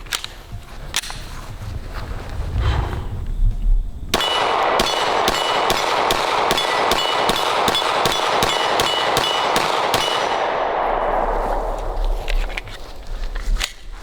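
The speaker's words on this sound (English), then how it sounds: "you go ahead and run your mag through it, and Let's find out. All right, Glock 19." A Glock 19 pistol fires a rapid string of about fifteen sharp, loud shots in an even rhythm at an outdoor range, preceded by handling noises and followed by a fading ring.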